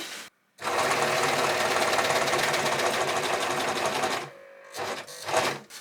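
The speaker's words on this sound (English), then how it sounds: "I think I'm going to cut and then serge it" A serger runs continuously around the neck edge of fabric for a shepherd nativity costume, a loud steady mechanical whirr for about four seconds, then stopping with a few shorter bursts as the fabric is adjusted.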